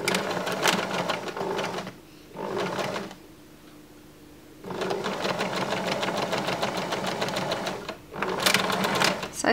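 Sewing machine stitching an extension onto the back of a bra, running in several rapid clattering bursts separated by short pauses, close and loud.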